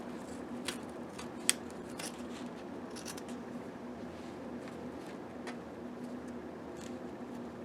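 Scissors snip through fabric during sewing prep, a few faint, scattered cuts with short crisp clicks over a steady low hum, close by and quiet.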